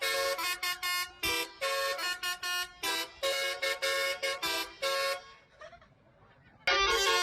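Telolet musical horn of a parked bus in a tourist-site parking lot, a loud, near, tuneful series of short and sustained honks in a rhythmic pattern, pausing briefly before one more blast.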